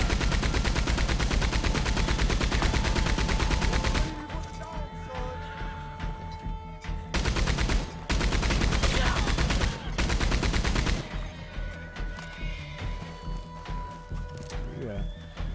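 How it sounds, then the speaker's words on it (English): Continuous rapid Gatling gun fire in a video game, loud and dense, broken by short pauses and renewed bursts, with horses and other game noise around it. "Now you've got the Gatling gun."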